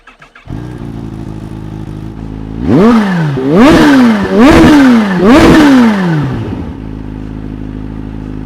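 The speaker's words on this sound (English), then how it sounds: "comes with a few added goodies like this Acra exhaust. Let's have a listen." A Kawasaki ZH2 motorcycle with an Akrapovič exhaust idles with a deep, throaty sound, then three sharp revs blip up and fall back before it settles into a steady idle again.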